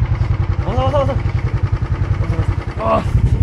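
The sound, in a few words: motorcycle engine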